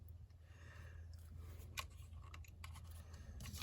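Scissors cut a line through a paper journal page between two punched holes, a faint, quiet snipping with a few small crisp clicks spread over a few seconds in a hushed room.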